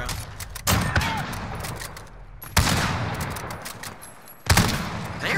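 Bursts of video game gunfire come in three separate loud volleys, each a sharp onset followed by rapid rattling shots that fade away, with quieter gaps between them.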